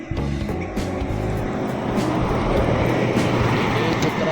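A Putra Pelangi bus overtaking another coach at night on the Banda Aceh–Medan road, its engine a steady, loud, close roar with deep rumbling tones that builds slightly toward the end, with some talk mixed in.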